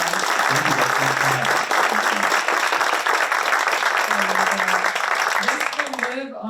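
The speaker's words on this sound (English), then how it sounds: "I think a big round of applause" Dense, sustained applause from a panel audience at a film festival, filling the room at an even level and tapering at the very end, with voices mixed in underneath.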